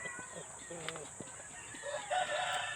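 A Japanese Shamo chicken from a breeding pair gives short clucks and calls near the microphone, under faint background noise and someone speaking.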